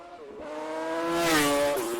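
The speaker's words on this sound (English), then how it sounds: "That thing revs." The PGM V8 motorcycle engine revs close and loud. Its rising howl climbs quickly to a high-pitched peak, then falls back and snaps up again in a short burst.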